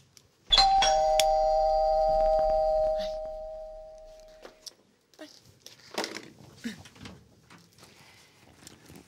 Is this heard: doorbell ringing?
yes